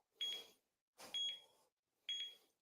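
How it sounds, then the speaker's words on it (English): An isometric force-measuring device beeps while recording force during a bicep curl: three short, high beeps about a second apart, quiet and close, each with a soft rustle of movement. "You can hear it's beeping. That means it's recording my force output."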